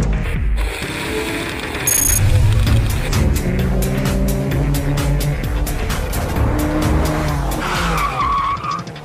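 A Porsche with a PDK dual-clutch automatic transmission drives hard with a loud, sustained engine roar and tire squeal, steady throughout with brief pitch shifts, close up and without speech.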